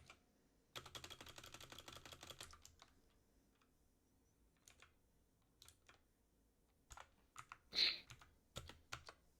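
Typing on a computer keyboard while live-coding, with a fast run of clicking keystrokes at the start, then a pause and scattered single key presses and short bursts, quiet and close.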